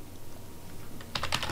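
Computer keyboard typing, a quick cluster of faint close key clicks near the end after a quiet stretch.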